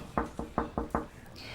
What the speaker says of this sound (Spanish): la esperada visita llama a la puerta